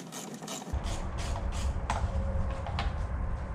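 A ratchet with a 10 mm socket works screws out of a 2008 Chevrolet Impala door during window regulator replacement, giving rapid, close clicking pawl strokes in short repeated bursts.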